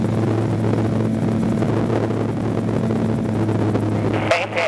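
Steady, loud engine and rotor drone of a gyroplane in cruise flight at around 80 to 90 knots, a continuous low hum with a constant tonal whine filling the whole stretch.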